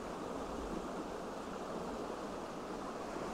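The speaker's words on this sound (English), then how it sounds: "with all the white water running down through" White water of a river rushes down through a mountain landscape in a steady, even roar, constant and fairly soft throughout.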